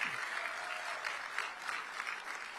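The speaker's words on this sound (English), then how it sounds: "I want you guys to give yourselves a round of applause" Steady applause from a summit audience of activists and county chairs, dense and continuous clapping at a moderate distance, holding evenly for the full stretch with no voices on top.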